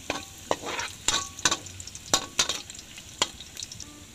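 Garlic frying in a hot pan for a squid dish, with a soft steady sizzle broken by repeated sharp clinks and scrapes as a utensil stirs it against the pan.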